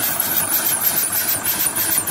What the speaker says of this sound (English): The exhaust from the engine is going up the stack through this pipe right here.